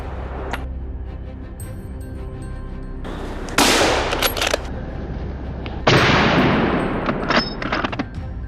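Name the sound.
rifle gunshots fired at wild boars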